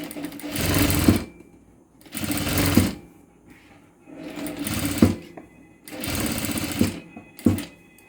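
A sewing machine stitches the side seam of a child's low-waist frock, running in four loud, close bursts with short silent pauses between them.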